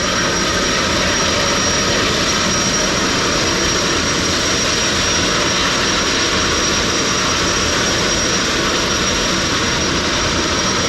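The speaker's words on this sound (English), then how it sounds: "What's the point of the jet engine?" Jet engine of a boat on a canal, a loud continuous roaring rush that holds steady and close throughout, with no talking over it.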